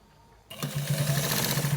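A sewing machine starts up abruptly and runs steadily, stitching a design along the side of a trouser, a close, fast mechanical whir with a rapid pulsing rhythm and no voices.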